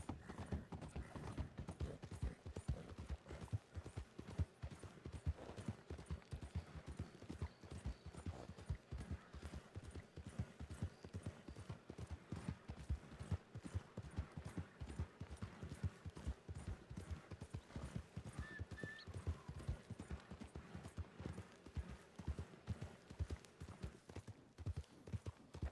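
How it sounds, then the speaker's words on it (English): Horse hooves clip-clop steadily and fairly quietly in a western roleplay video game, a continuous even rhythm of hoofbeats throughout. "Somebody's on their horse there."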